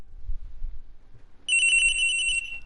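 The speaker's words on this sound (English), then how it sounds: "Phone call." A telephone rings in the video game Ace Attorney, a bright electronic ringtone that starts abruptly midway and trills loudly for about a second over faint low background noise.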